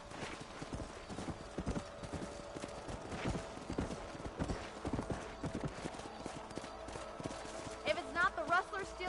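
Horse hooves clip-clop steadily in a Western-style video game, with occasional whinnies and other game sounds mixed in, and speech is also detected.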